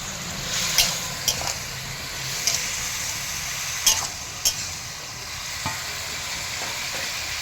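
A spatula stirs leafy greens for palong shak ghonto in a pan over a soft steady sizzle, with sharp scraping clinks at irregular intervals, fairly close and without talk.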